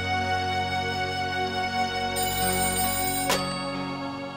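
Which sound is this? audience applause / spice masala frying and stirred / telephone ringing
telephone ringing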